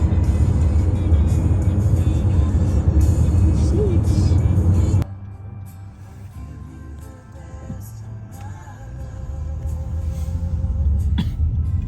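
Road traffic in Alberta: a low car engine rumble with passing vehicles, loud at first, then quieter, with scattered thumps and the engine drone swelling again toward the end.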